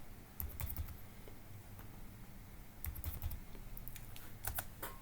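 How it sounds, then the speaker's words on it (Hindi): A password goes in on a computer keyboard to reach a Linux virtual machine, the keys clicking in small quick bursts with short pauses, faint under a steady low room hum, with no one speaking. "पासवर्ड एंटर करके"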